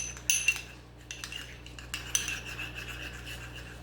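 Metal spoon stirring yogurt in a bowl while mixing a chicken wedge salad dressing, with sharp clinks against the bowl and softer scraping strokes in between, close and alone.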